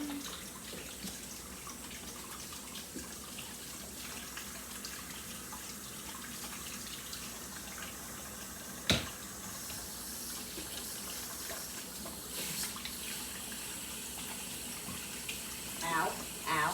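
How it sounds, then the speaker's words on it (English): Hands are washed under a running kitchen tap, a steady splashing stream that runs throughout at moderate level, with a few brief clatters near the end. "Let me wash my hands."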